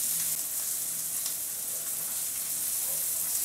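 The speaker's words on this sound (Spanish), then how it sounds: "estamos haciendo un leve sofrito" A light sofrito sizzles in a pan ahead of scrambled eggs, giving a steady, close, even hiss of hot oil for the whole stretch, with no talking.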